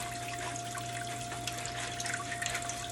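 Steady running water from a tap or sink as raw sea moss is rinsed, a continuous close splashing wash with a constant low hum beneath and no pauses.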